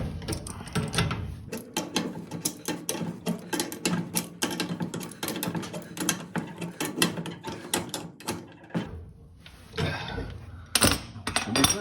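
A wrench tightens a flexible gas hose fitting for an oven or dryer connection, giving a long run of rapid metallic ratcheting clicks in bursts, close and clear, with brief pauses near the end.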